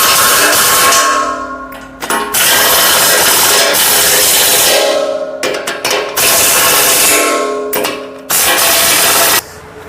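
A 3/4-inch impact wrench tightens bolts on a tractor-mounted hydraulic log splitter, firing in loud, sustained bursts of hammering with brief pauses between runs.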